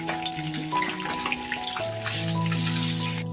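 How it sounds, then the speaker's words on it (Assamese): Fish frying in a wok, giving a steady, close sizzle and crackle that carries through the whole stretch with no talking. "ইফালে কেৰাহীখন পাতি মাছ মাছকেইপিছো ভাজি লৈছোঁ"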